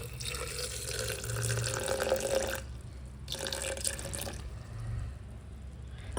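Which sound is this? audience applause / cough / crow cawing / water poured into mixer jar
water poured into mixer jar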